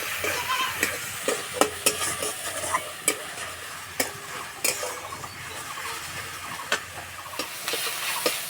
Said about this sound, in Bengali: পেঁয়াজের সঙ্গে আদা রসুন ভালো করে কষিয়ে নিয়েছি